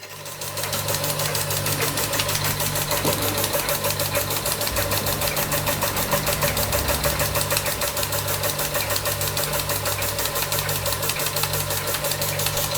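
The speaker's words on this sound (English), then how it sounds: "Lovely little piston valve engine." Small Czechoslovakian Ites model piston valve steam engine running at a fast steady pace, a dense rapid mechanical chuffing and ticking rhythm with a low hum underneath, close and continuous throughout.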